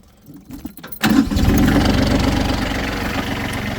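Branson 2610H tractor with backhoe cranked over and fired up: a brief starter whir, then the diesel engine catches and settles into a steady, loud, rumbling idle close by.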